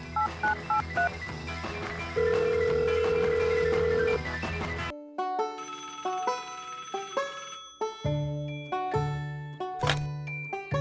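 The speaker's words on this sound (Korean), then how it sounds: "일단 전화를 해봐야겠다. 띠띠띠띠띠." A telephone keypad dialing a rapid series of DTMF tones, followed by a melodic ringing tone with repeated beeping notes, loud and close with no voices.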